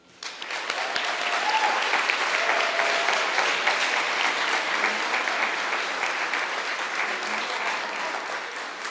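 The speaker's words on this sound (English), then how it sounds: "I would say let's do one more round of applause." Sustained applause from the audience at a DPT white coat ceremony, a dense steady roll of clapping that starts abruptly and holds loud and even for several seconds with no talk over it.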